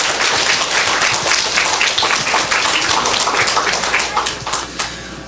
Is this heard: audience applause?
yes